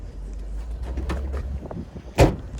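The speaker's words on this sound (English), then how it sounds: "Trunk shut again." The trunk of a Ford Ranger pickup at an outdoor Copart lot is shut, a single sharp solid thump near the end after faint rustling and background rumble.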